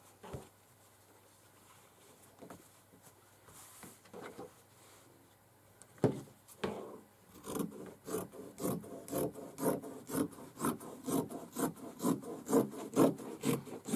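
Scissors trim a couple of inches of fabric off the bottom of pant legs, starting with a few scattered snips and rustles and building into a steady run of close, rhythmic cuts in the second half.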